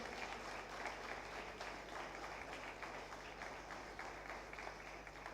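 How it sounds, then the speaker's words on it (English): Steady, dense applause from a summit audience for a panel of speakers fills the space, with no break and no other sound over it. "Audience, please give a big round of applause."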